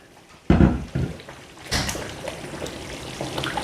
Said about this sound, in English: It's popping everywhere